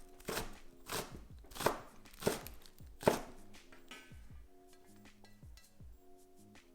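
A knife chops scallions into small pieces on a board for vegan Chinese scallion pancakes, with a run of crisp, close, evenly spaced strikes that slow and thin out toward the end.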